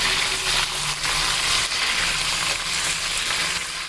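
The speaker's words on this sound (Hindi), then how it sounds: "अब इसको भून लेंगे प्याज के साथ।" Chicken and onions fry in a pan with a steady, bright sizzle that hisses continuously and close up, with no voices.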